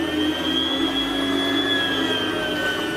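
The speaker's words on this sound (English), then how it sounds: "Okay, I got my meat slicer out here." An electric meat slicer runs while shaving roast beef for pit beef, giving a loud, steady motor whine with a high tonal hum that holds constant and close throughout, with no talking.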